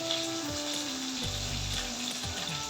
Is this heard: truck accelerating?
no